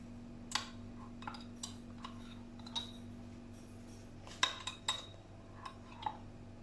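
A spoon adds ginger-garlic paste to chicken marinating in a bowl, giving a few soft, sparse clinks and taps of metal against the bowl over a quiet low hum, with no voices.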